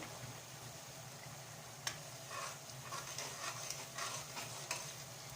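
Turmeric and chili powder are stirred into a dried fish curry with stuffed taro stolons, with soft, faint scraping strokes over a low, steady sizzle from the pan.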